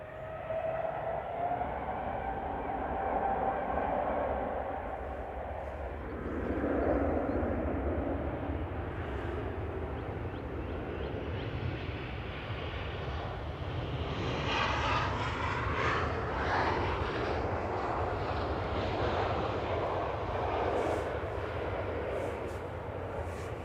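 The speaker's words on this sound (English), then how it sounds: "Ethiopian is spooling" Ethiopian Airlines jet at Manchester Airport spooling up its engines, a steady broad roar that swells and rises in pitch partway through, with another aircraft landing in gusty wind and some speech over the top.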